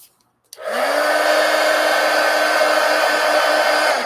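A handheld dryer switches on after a brief pause and blows a loud, steady whirring hiss over freshly painted journal pages, running continuously with no voices.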